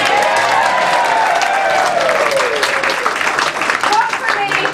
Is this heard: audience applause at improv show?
yes